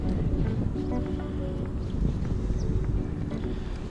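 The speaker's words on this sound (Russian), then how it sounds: "Сильный очень боковой ветер." A strong side wind blows across a lakeshore during perch ice-jig fishing, producing a loud, continuous low rumble of gusts hitting the microphone, with no talking.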